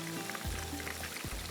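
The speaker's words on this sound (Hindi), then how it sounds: "इसमें जाएगा ये पानी" Water poured into a hot pan of frying chicken tikka boti, giving a steady hiss and sizzle throughout, fairly soft, with no talking.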